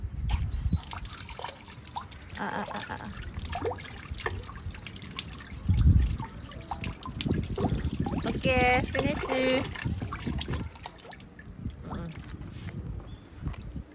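Water runs and trickles for a stretch, splashing lightly as hands are rinsed after play at a park, with people talking over it and a voice nearby.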